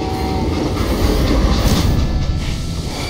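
A train runs on rails in the Western video game Call of Juarez: Gunslinger, a loud, continuous rumble with rhythmic clattering of wheels, close and steady throughout.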